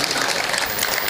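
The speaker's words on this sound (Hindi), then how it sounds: "एक बार आप जोरदार तालियां नदीम फर्रुख भाई के लिए" An audience at a mushaira poetry gathering claps in a dense, steady burst of applause, brief and fairly loud from start to finish.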